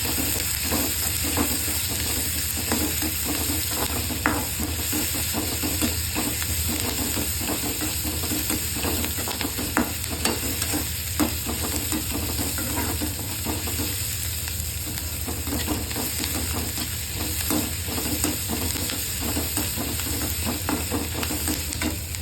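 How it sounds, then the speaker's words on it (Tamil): Chopped onion, green chillies and garlic sautéing in a pan: a continuous close sizzle runs throughout, broken by frequent spatula scrapes and soft stirring knocks, with no talking. "இதோட 2 பச்சை மிளகாயும் இன்னும் கொஞ்சம் வதங்கணும்."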